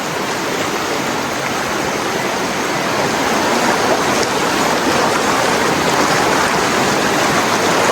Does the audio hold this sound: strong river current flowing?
yes